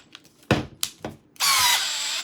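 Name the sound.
Milwaukee M12 FUEL installation drill/driver running in drill mode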